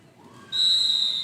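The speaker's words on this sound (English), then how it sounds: "Here's the whistle for halftime." Referee's whistle at a roller derby game signalling halftime, one long steady shrill blast that starts suddenly and holds to the end over faint arena murmur.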